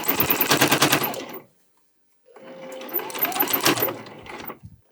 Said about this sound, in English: just move the bag as you sew so that you're only catching that one edge in your seam